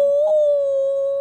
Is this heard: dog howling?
yes